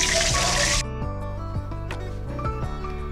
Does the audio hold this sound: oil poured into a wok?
yes